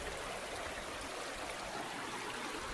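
Creek water flows steadily around feet wading in the middle of a shallow stream in a green Central Alabama swamp forest, a continuous close, broadband rushing and trickling with no talk.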